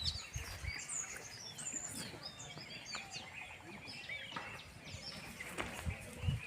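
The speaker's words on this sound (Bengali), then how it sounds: "কি সুন্দর পাখির আওয়াজ" Birds sing and chirp in the Sundarbans forest, with many overlapping high calls and whistles over a steady wash of natural background, some near and some farther off.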